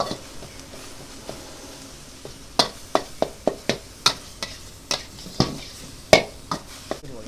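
A spatula taps and scrapes against a pan as a pork stir-fry with kaffir lime is tossed over low gas, in sharp irregular knocks growing more frequent, close and fairly loud without speech.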